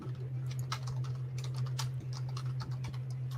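Quick, irregular clicking of keys on a computer keyboard, close and steady over a low constant hum, with no talking.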